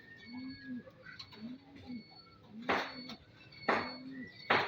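Racing pigeons cooing close by in a repeated rhythm of soft low calls, with a few sharp taps and rustles mixed in.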